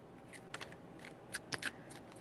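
Tarot cards being shuffled by hand, a run of light papery riffles and flicks, close but faint, with a few sharper snaps toward the middle.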